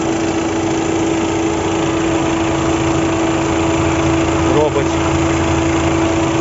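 A 2015 Volkswagen Jetta 2.0 TDI diesel engine idles close by, with a constant tonal drone and vibration throughout and no change in speed.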